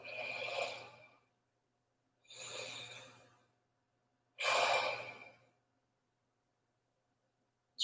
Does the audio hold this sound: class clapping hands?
no